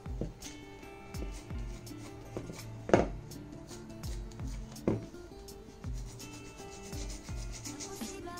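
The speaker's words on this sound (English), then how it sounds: "I'm just going to rub off some of the chalk paints from, not everywhere, but from some of the corners." Chalk paint being rubbed and sanded off the corners of a plastic flower pot, with close, steady scraping and rubbing strokes and a couple of sharper scuffs along the way.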